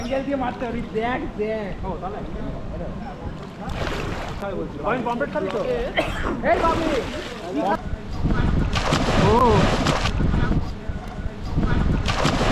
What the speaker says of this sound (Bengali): এইবারে সুইমিং পুলে নেমে পড়েছি